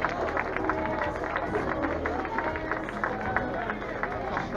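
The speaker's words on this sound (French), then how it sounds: "Allez, on les applaudit, on leur applaudit." Spectators at a youth running race in Mézidon clap for the first three finishers, a steady dense patter of applause with crowd murmur and chatter throughout, moderately loud and continuous.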